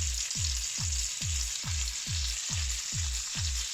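A burger patty sizzles steadily in a pan, seasoned with salt and pepper, giving a constant hissing fry with soft, regular low pops repeating about every half second throughout.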